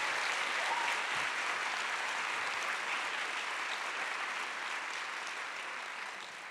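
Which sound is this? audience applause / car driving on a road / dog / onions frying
audience applause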